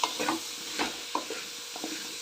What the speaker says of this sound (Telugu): ఆ పేస్ట్ ఇందులో కలుపుకున్నాను